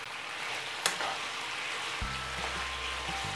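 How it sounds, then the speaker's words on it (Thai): Pork stir-fries with oyster sauce and soy sauce, giving a soft, fairly quiet sizzle with a sharp clink early on, and a low steady hum joins partway through. "ก็ผัดให้เครื่องผสมมันเข้ากันผัดประมาณ2นาทีเนี่ยแหละ"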